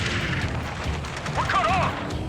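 Dense battlefield gunfire from the Ace Combat 7: Skies Unknown rescue mission, a steady wash of shots and rumbling booms throughout, with a brief radio-style voice rising over it near the end.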